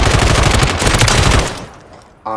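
Automatic gun in Warzone 3 on the firing range fires a loud, fast, continuous burst for about a second and a half, then stops abruptly into a quiet tail.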